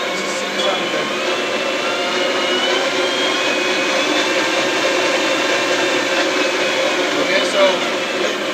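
CNC machine spindle running at 600 RPM in a workshop, a steady close whirring hum with a faint mechanical whine throughout, with no change in level.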